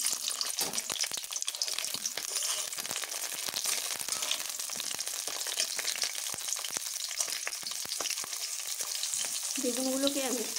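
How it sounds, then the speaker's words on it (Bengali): Cut eggplant pieces fry in a little oil in a wok, giving a steady broadband sizzle that runs throughout with scattered crackles and stirring clicks, plus a brief tonal clatter near the end. "প্রথমেই আমি এই বেগুনগুলোকে ভেজে নেব।"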